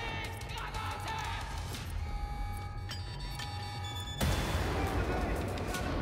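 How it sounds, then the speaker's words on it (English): A grenade blast in the video game Wolfenstein: The New Order, a sudden loud burst late in the span following a stretch of game ambience and scattered shots, with a player talking throughout. "They just threw a freaking grenade at me."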